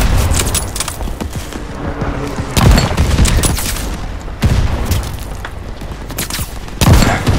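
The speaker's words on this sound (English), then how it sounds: "now they're shooting me" Enemies shoot at the player in the video game Call of Duty Vanguard. Loud, close gunfire comes in repeated bursts with heavy impacts every couple of seconds, set against a busy rumble of battle.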